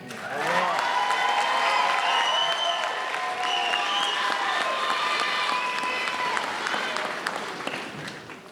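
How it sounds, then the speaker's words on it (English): An audience at a school district graduation ceremony applauds steadily for several seconds, a dense, close wash of clapping that swells, holds, and slowly tapers off toward the end. "Let's give him another round of applause, please."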